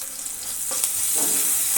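Green chili, garlic and ginger paste frying with onion in hot oil for a capsicum curry, a steady bright sizzle with occasional stirring scrapes, close and continuous.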